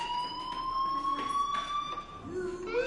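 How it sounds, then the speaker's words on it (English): A fire alarm blares in the video game Life is Strange: a steady electronic wail that holds a high tone and slowly rises in pitch. It sounds continuous and fairly loud, with faint game ambience underneath. "Hey, do you hear that fire alarm?"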